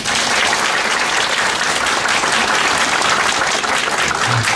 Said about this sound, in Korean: 지금까지 좋은 말씀 해주신 조합장님께 큰 박수 다시 한번 부탁드리겠습니다